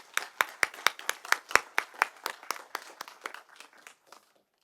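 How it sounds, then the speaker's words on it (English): A single pair of hands claps about twenty times in an even, quick rhythm, close and fairly quiet, gradually fading before stopping, as acknowledgment at an Italy-Uzbekistan rectors' forum. "please join me in acknowledging their achievement with a warm round of applause"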